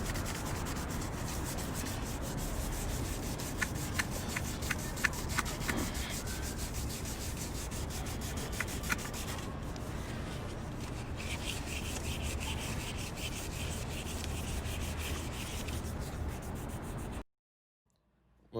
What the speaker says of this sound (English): When sanding down your rims, you're going to need some sandpaper from 80 grit all the way up to 220 grit.